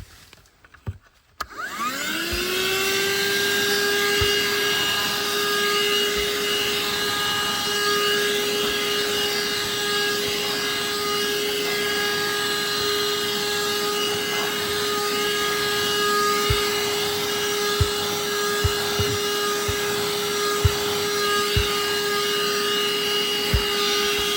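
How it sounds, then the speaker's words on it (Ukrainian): A small RZTK AVC 120 car vacuum cleaner starts up after a click and runs with a steady, high-pitched whine for a long stretch, with occasional light knocks. "Зараз буду пробувати пропилососити, щоб ви бачили, яку він забезпечує потужність"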